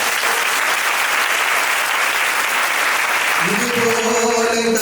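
Steady, loud applause from a large audience at a procession celebration, dense clapping filling the whole stretch with singing voices entering near the end.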